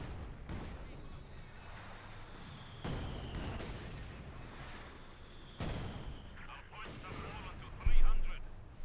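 Field gun artillery firing in a WWII strategy video game, booming shots at a few-second intervals over a dense wash of battle noise, with a commentator talking throughout.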